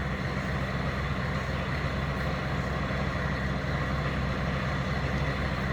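A 1984 Cadillac Seville with a 5.7 liter diesel engine running, a steady low rumbling idle with a constant hum, even and unbroken from start to finish, moderately loud with no talk.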